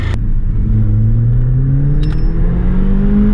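A Mercedes-Benz CLA45 AMG fitted with a Weistec intake accelerates hard from inside the cabin, its loud engine drone climbing steadily in pitch through the gears, with a brief rattle partway through.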